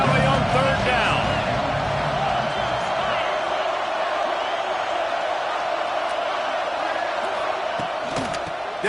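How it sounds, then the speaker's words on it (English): Large crowd at a college football game in Happy Valley roaring on third down, a dense, sustained wall of cheering and noise filling the stadium, with a commentator talking over it. "Here comes the noise from this big crowd in Happy Valley on third down"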